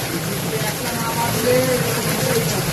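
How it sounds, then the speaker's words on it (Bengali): Heavy rain pours down outdoors onto parked vehicles, a dense, even hiss of drops that stays steady and fairly loud throughout, with a faint murmur of voices in the background. "কি বৃষ্টি হচ্ছে দেখো বন্ধুরা"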